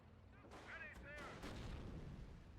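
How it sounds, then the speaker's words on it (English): Mortar fire in the video game PhoenixMod, deep booming impacts rumbling low and sustained under faint game effects and radio-like tones, the blasts rolling one into another. "Mortar doing the work though."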